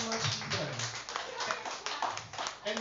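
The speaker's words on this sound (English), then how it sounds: "A round of applause for Ethan." Audience at a preschool environment forum applauds a panelist, a light patter of clapping mixed with murmuring voices in a hall.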